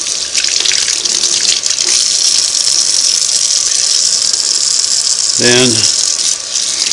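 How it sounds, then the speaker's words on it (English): Tap water runs steadily into a sink while small Singer 301A sewing machine parts are rinsed, a continuous close hiss with a brief squeal and rattle near the end; a voice speaks a word early on. "I'll go ahead and rinse this"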